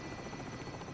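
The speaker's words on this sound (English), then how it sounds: "I'm gonna drop down to the helicopter." A helicopter in the Call of Duty video game, its rotor giving a close, steady, throbbing beat with a dense whirring roar, alone without talk.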